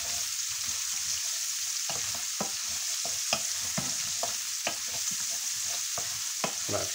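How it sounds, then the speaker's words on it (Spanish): Carrot fries over high heat in a pan for a deer civet, with a steady sizzle throughout and repeated scraping stirs of a utensil across the pan bottom, close by. "Y le vamos a dar primero aquí a la zanahoria un golpe. La vamos a freír."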